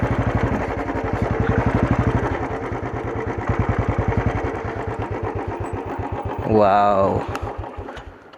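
A motorboat engine runs on the muddy water of the Sapta Koshi river, chugging in a steady rapid pulse at close range. A voice briefly exclaims partway through.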